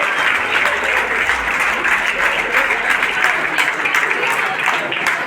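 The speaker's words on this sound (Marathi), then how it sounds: "एकदा जोरदार टाळ्या पुन्हा एकदा" Sustained, dense applause from an audience at a Ganesh festival fort display in a Ghatkopar chawl, loud and continuous throughout with a faint murmur of voices underneath.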